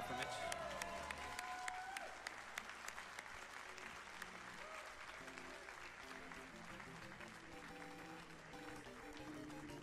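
A crowd at a live speedrun marathon event for Super Mario Bros. 3 cheers and applauds in a steady, dense wash, with game music and commentators talking underneath.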